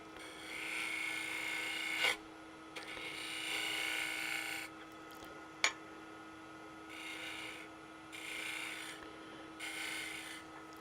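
A curved scraper on a lathe cuts a cherry wood lidded box, making repeated bursts of raspy scraping against a steady motor hum, with a couple of sharp clicks between passes.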